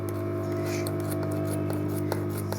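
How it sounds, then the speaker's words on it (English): Scissors snip off excess fabric from a sewn school backpack, giving small close cutting clicks and rustles over a constant low machine hum. "So the next thing is to cut off the excess."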